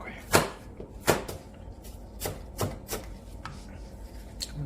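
A knife chops apples for an apple pie on a cutting board, giving a handful of sharp, irregular cuts close to the microphone with short pauses between strokes.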